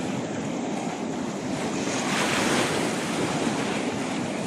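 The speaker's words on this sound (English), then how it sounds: "there are some nice waves down there. Quite large waves." Large ocean waves break on Trafalgar beach in a continuous loud roar of surf, with wind buffeting the microphone and a surge in the middle.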